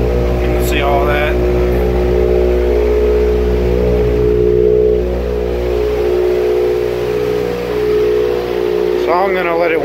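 Car engine with a Perrin turbo sump restrictor idling through a cold-start warm-up, a steady droning hum with a constant low throb, close and loud, with brief chirping sounds near the start and end.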